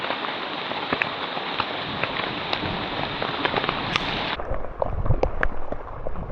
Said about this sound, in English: Still hailing.